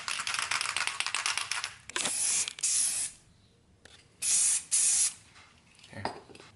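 An aerosol can lays a medium wet coat of paint on a Nissan 350Z rear fog light in several sharp, close hissing bursts, some long and some short, separated by brief pauses.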